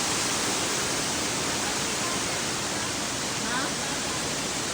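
Mimbalot Falls pours down in a dense, steady roar of rushing water that fills the whole clip, loud and unbroken, with no clear voices above it.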